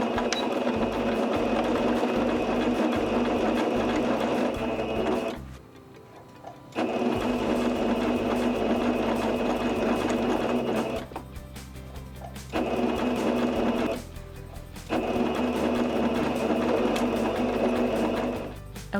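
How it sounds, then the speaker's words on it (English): Sewing machine stitching bias binding along a curved hem about a quarter inch in, running in steady close buzzing bursts with short pauses between runs. "Now I'm going to go ahead and sew right along here about 1/4 of an inch in."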